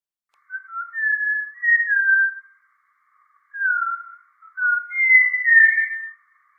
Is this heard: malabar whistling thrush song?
yes